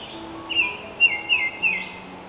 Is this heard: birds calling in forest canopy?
yes